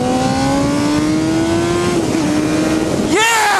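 A supersport street motorcycle accelerates hard, its engine pitch climbing steadily, then dipping briefly and surging again as it shifts. The loud roar holds close throughout.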